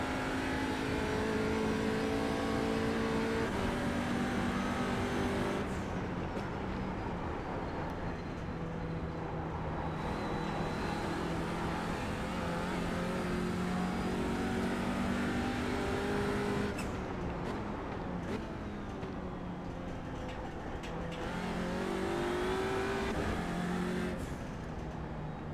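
A race car engine at Sebring in the iRacing sim revs and drones continuously, pitch climbing through gears and dropping sharply under braking, loud and close for the whole stretch.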